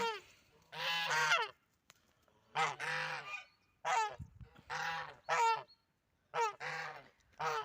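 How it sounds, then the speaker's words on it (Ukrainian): A flock of geese honks repeatedly in a loud, irregular series of harsh calls, close by and with no talking. "І гуси також мені допомагають вам розповідати."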